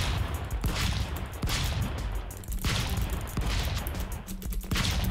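Rapid bursts of video game gunfire from Stick Fight crack and boom repeatedly, loud and close, in several clustered volleys with almost no pause between them.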